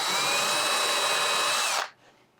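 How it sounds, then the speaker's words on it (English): A power drill boring into the center of a piece of particle board furniture, a steady close high-pitched whine that runs for nearly two seconds and then cuts off abruptly into quiet. "I'm gonna drill right in the center"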